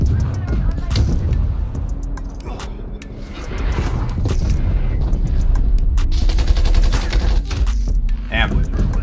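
Loud automatic gunfire in Call of Duty: Black Ops Cold War on PS4, a dense, nearly continuous fusillade of close shots with rattling mechanical clicks, and a player talking over part of it.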